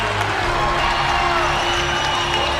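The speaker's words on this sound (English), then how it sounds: "Mustang bench and Mustang crowd fired up" A college basketball crowd and the Mustangs bench roar and cheer at a conference tournament game, a loud, dense, continuous wall of cheering and whoops with some clapping, filling the whole stretch.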